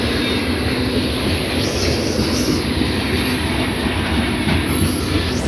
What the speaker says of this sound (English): This is pretty much a CSX train.